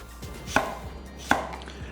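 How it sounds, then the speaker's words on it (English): A knife slicing leeks diagonally on a cutting board gives two sharp, separate chops about three-quarters of a second apart, close and fairly loud over a quiet background. "Cut the leeks diagonally."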